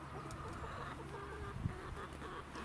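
Chicks clucking and peeping softly in a garden coop on a morning, a low steady murmur of fowl with a few brief louder calls, no talking.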